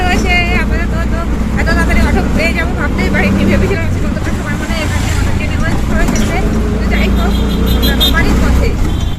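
An auto rickshaw ride from the inside, with a steady engine drone and road rumble throughout and people talking continuously over the noise.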